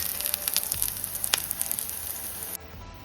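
Ragi and drumstick-leaf adai frying in oil on a pan, with bright continuous sizzling and small crackles, one sharper pop midway, before the sound drops off abruptly near the end.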